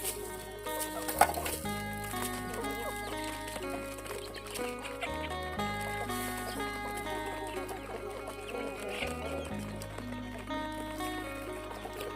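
Chickens, with ducks nearby, cluck steadily and continuously at a village poultry gathering, a busy layered chorus of close and distant birds running throughout without pause.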